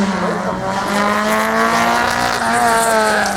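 A Peugeot 205 Rallye rally car runs a slalom circuit with a steady, loud engine note that rises and holds. Tyre noise and a distant commentary voice sit under the engine.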